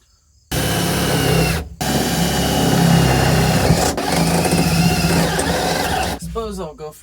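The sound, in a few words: drilling pilot holes for a mount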